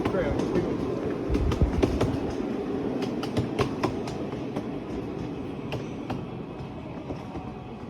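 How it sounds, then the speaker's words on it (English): Rolling train noise fills the inside of a passenger car on a railway trip in Burnaby, with a steady rumble and scattered rail clicks, while people talk over it. "I am on a train."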